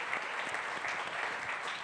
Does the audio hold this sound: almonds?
no